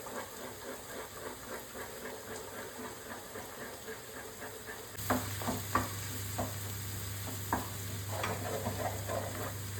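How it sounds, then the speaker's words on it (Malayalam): Beaten egg hitting hot oil in a pan for fried rice: a soft steady sizzle, then a sudden louder surge of hissing and crackling with a low hum beneath, broken by a few clacks of the utensil. "ബീറ്റ് ചെയ്ത് വെച്ച് എഗ്ഗ് അങ്ങോട്ട് ഒഴിച്ചു കൊടുക്കാൻ പോവാണേ"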